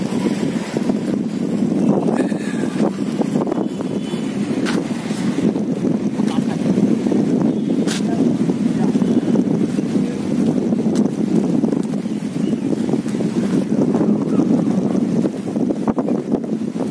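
Wind gusting at the Attappadi mountain pass on a cold morning, a loud continuous roar buffeting the microphone throughout, with no voices.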